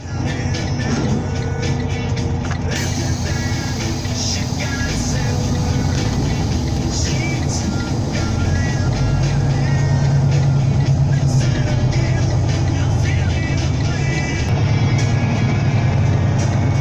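A semi truck drives through the country toward Chicago, its diesel engine a constant low rumble heard from inside the cab with road noise building steadily over the stretch.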